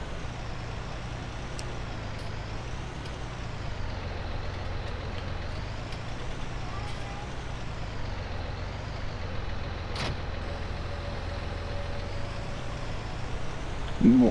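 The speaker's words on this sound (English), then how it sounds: "Alright, let's get into this tractor." Tractor engine in Farming Simulator 19, a steady droning rumble with a wavering low tone running throughout, fairly loud and continuous, with a brief sharp clunk near the end.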